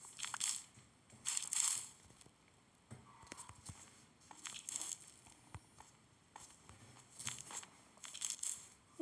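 Blocks being broken in the Minecraft video game give short, crunchy, crumbling bursts that come in repeated clusters with brief gaps between them.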